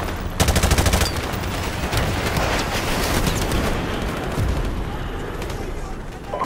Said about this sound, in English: Mortar fire! Incoming!